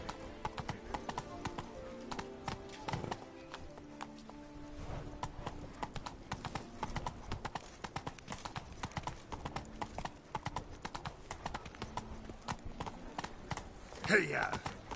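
Hooves of the horse in The Witcher video game clip-clop in a steady, busy rhythm throughout, faint and close, with a brief louder snort or whinny near the end.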